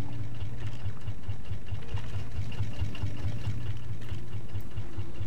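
A raft's motor runs in the survival video game Raft, giving a low, steady engine hum with a rapid rhythmic throb, moderately quiet and without talk.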